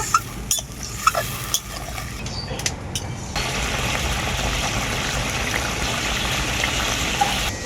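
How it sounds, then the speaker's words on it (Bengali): A few clinks and stirring knocks against a pan give way to a sudden, sustained rush as water pours into a thick pointed-gourd curry, then a steady hiss and bubbling. Close and fairly loud, with no voices. "এখন এর মধ্যে দিয়ে দেব পরিমাণ মতো জল"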